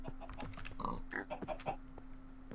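A pig in the video game Sky Factory 3 gives a few short, quick oinks and grunts, close and fairly quiet, mixed with soft keyboard clicks.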